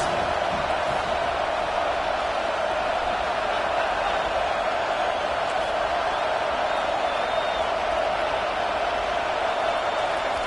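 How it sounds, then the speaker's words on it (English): A stadium crowd in a college football video game makes a steady, dense roar that holds at an even loudness without pause, with no distinct cheers or claps standing out. "Listen to this crowd just shaking the girders of this place, trying to help their defense."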